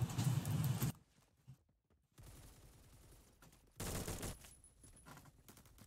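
Gunfire from the BattleBit video game comes in short bursts of rapid light taps, with dense rattling volleys split by brief silences and some quieter in-game footsteps between them.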